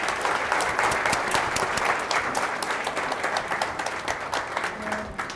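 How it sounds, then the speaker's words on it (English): Sustained audience applause, many hands clapping together in a dense, steady wash that gradually eases slightly. "can we keep the applause going?"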